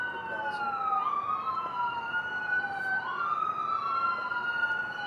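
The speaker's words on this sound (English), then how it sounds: "Hopefully you don't hear the sirens." A wailing emergency siren sweeps up and down continuously, fairly distant, over a steady low hum of background noise.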